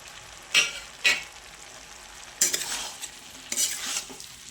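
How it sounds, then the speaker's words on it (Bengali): Spices, tomatoes and onion greens being stirred and fried in a pan, with a few sharp scraping strokes of a spatula over a soft, steady sizzle. No one speaks. "এবার ভালো করে কষিয়ে নিতে হবে।"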